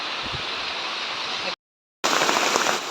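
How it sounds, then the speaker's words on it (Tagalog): Heavy rain in a forest hisses densely and loudly, a steady downpour broken by a half-second dropout before resuming just as strong. "Grabe, ang lakas na ng ulan."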